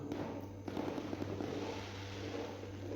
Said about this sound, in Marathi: फटाक्यांची आतषबाजी केली जाते